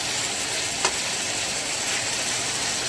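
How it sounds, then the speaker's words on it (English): Chicken browning in olive oil in an old pan, a steady close sizzle throughout with a faint brief scrape of a metal utensil against the pan surface. "So I'm scratching the crap out of my pan."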